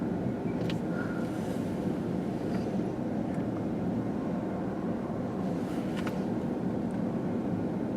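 A long CSX freight train, Q130 led by CSX 3209, rolls past with empty cars, making a steady loud rumble and rattle with faint clanks throughout.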